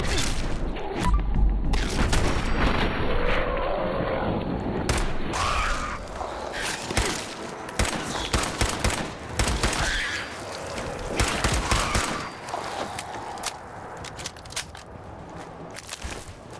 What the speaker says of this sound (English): What's with the gunshots?